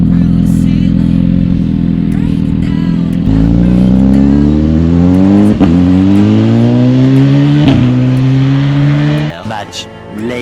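A 2010 BMW S1000RR sport motorcycle accelerating hard from about 100 to 300 km/h, its loud engine rising through the gears in repeated climbing whines with brief dips at each shift, close and continuous for about ten seconds.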